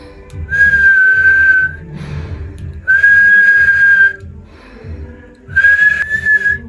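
A person's voice imitates wheezing breath as three long, high, whistling tones, each lasting about a second, separated by pauses with breathy low sound underneath, loud and close.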